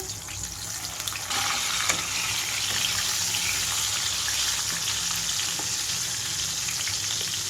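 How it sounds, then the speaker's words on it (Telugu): Bitter gourds frying in a pan for a spicy stuffed bitter gourd dish, giving a steady close sizzle with a watery, bubbling crackle that holds loud and even throughout, with no talking. "కాకరకాయలు వంతుల వరకు ఫ్రై అయిపోయింది ఇంకొంచెం ఫ్రై అవ్వాలి"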